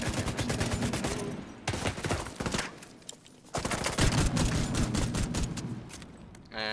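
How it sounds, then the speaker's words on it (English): M249 light machine gun fire in the video game The Division 2: rapid, loud automatic bursts in several long strings, separated by short pauses, with no talk over them. "as you can see, the LMG just shreds them"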